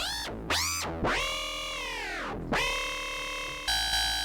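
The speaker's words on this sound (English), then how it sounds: "So you can do that with, say, some of the distortion effects in here." Harsh, distorted FM synth tones run through distortion effects, with gliding, swooping pitches, several bursts separated by brief gaps, ending on a steady buzzy note.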